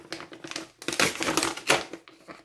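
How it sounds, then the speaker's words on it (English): Copy paper is peeled off a sheet of red foil tissue that has been laminated onto it. The peel comes as close, crackly tearing bursts with brief pauses between them. "but you pull off the copy paper"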